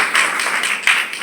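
A church congregation claps together in steady, dense rhythmic applause that stays loud and close throughout.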